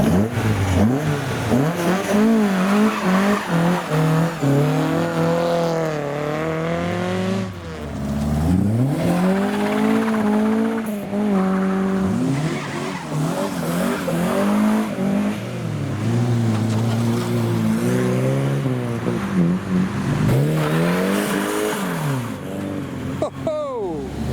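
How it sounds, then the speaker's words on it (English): A bright yellow Ford Escort Mark 1 Mexico and other retro builds rev and accelerate away from a car show, engines rising and falling in repeated loud pulls while people talk over the noise. "And here come the Ford Escort, starting with the bright yellow Mark 1."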